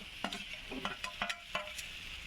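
Potatoes and soybeans stirring in sizzling spice paste in a pan, a steady fry hiss broken by a run of quick spatula scrapes and clinks, close and fairly quiet.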